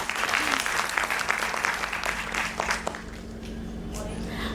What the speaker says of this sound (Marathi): भारती ताईसाठी परत एकदा जोरात टाळ्या.